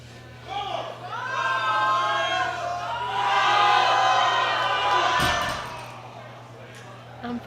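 A crowd cheers and shouts at a powerlifting championship, swelling to a loud peak in an indoor hall while a commentator talks over it.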